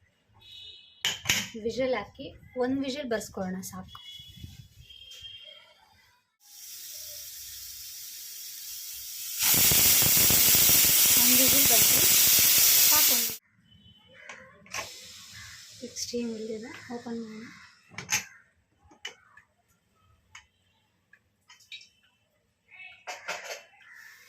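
A loud, steady hiss of steam from a pressure cooker cooking chicken and field bean sambar runs for several seconds between stretches of speech and clinking kitchen sounds.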